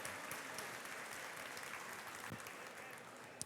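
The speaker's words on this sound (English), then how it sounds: "Let's make a round of applause." Audience applause fills the room at the 2016 Jackson EMC annual meeting, a steady wash of many hands clapping that holds evenly for a few seconds, fairly faint and distant, with a single sharper clap standing out near the end.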